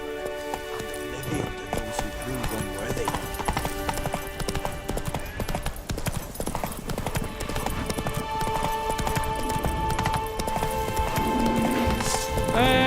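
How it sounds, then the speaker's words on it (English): A horse galloping in the video game The Witcher 3: Wild Hunt, steady rapid clip-clop hoofbeats running throughout, with game music tones layered over them. "Kalau gitu kita naik kuda."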